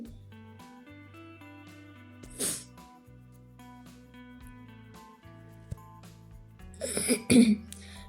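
A couple of short coughs or throat clears, one early and a harsher burst near the end, over quiet music in the background.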